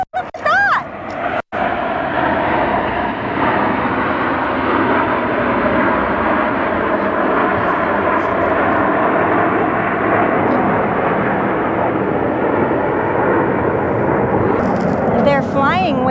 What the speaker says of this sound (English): They're flying with another jet too.